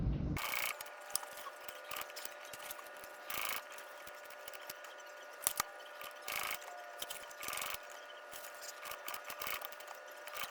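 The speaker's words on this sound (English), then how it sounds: "now we're gonna go over to the machine and I'm gonna do a box stitch" A sewing machine runs a box stitch across a crossbody bag, a steady mechanical whir with repeated clicking bursts and short pauses, fairly faint and close, with no talk.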